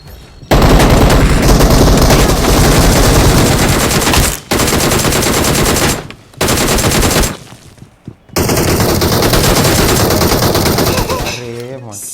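Sustained bursts of rapid machine gun fire in a shooter video game, loud and dense, broken by short pauses, with excited voices talking over and between the volleys.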